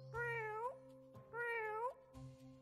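Cat meowing in The Cat Machine video game, two clear, close, tonal meows with rising-falling pitch, followed by a short softer sound over a faint steady game hum.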